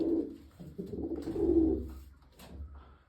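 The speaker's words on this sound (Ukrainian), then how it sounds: "Ось, бачите, скільки голубів" Pigeons coo softly nearby, several low, throaty calls overlapping in a gentle, rolling rhythm.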